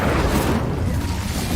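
A fire spell cast in the game Hogwarts Legacy roars as a dense, steady rumbling burst of flame and blast noise that fills the whole moment loudly, with no talking over it.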